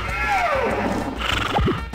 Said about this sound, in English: Don't get mad, horse!